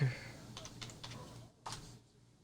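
Someone types on a computer keyboard in a few quick bursts of close, soft key clicks, with brief pauses between them.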